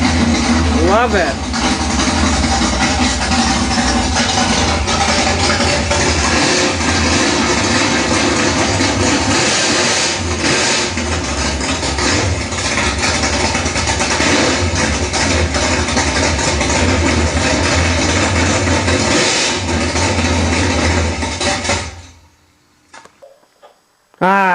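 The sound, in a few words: diecast Chevy small block model engine running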